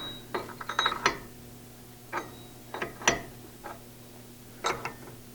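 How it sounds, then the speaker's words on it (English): A Walhonde Top Liner pipe clamp being tightened gives off a series of sharp ratcheting clicks in uneven clusters, close and fairly quiet, with short pauses between bursts. "Just tighten that up a little bit."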